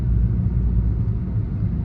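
Steady low road-traffic rumble heard from inside a moving car, a continuous dense drone with no breaks, fairly loud and close.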